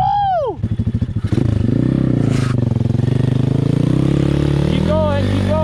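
Apollo RFZ dirt bike ridden off-road on an enduro trail, its engine revving hard and near, with throttle blips and rattly clatter over uneven ground, while voices shout and talk over it.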